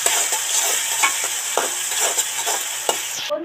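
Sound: stirring onion, tomato and ginger-garlic paste frying in pan

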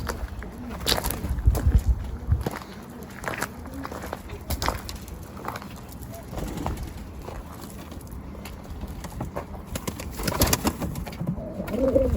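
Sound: tumbler pigeons landing and being handled

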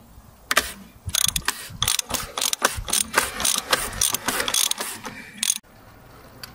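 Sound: ratchet undoing the sump plug on a BMW 435d

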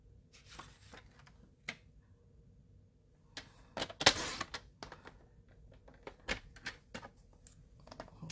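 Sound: cutting cardstock for a matting layer

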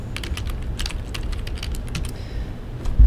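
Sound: typing a note on a computer keyboard

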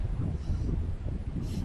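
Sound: wind blowing on the Quantock Hills

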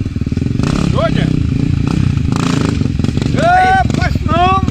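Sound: motocross motorcycle engine

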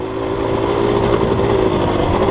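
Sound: motorcycle engine with Recluse auto-clutch

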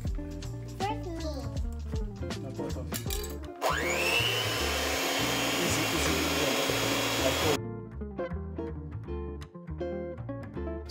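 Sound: electric mixer beating keto bread batter

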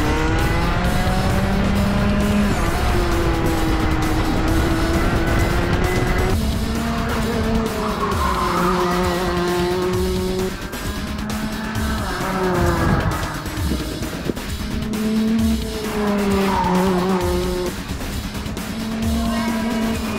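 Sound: professional racing driver driving a go-kart

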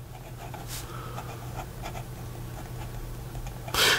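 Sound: Lamy Aion steel nib fountain pen reverse writing on paper

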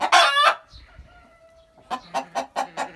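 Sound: chickens clucking in an aviary

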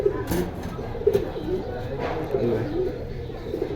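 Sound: pigeons cooing

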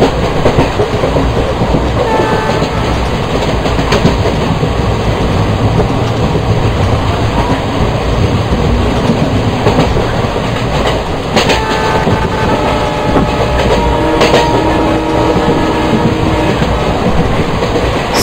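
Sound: WDM3A diesel locomotive train running in MSTS Open Rails game

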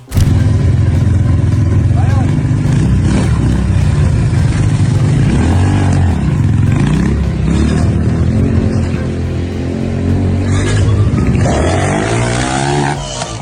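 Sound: motorcycles riding and revving during training

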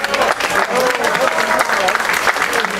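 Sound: applause for tournament participants

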